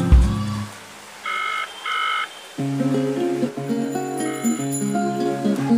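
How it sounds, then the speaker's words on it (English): A DZ09 smartwatch rings with an incoming call in two short electronic bursts, followed by a looping melodic ringtone that plays on steadily, close and clear. "It is ringing."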